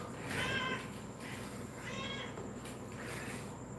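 A pet cat named Kitty meows three times indoors, each call clear and fairly close against a steady room hum with faint background music.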